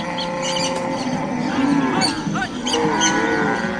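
A herd of cattle lowing in a Dinka cattle camp, several overlapping moos, close and loud, layered in a continuous chorus with no voices.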